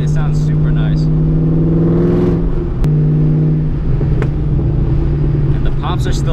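A supercharged car revs close by with a rising whine over its deep exhaust rumble, swelling and dropping once before settling back to idle, while a person talks over it.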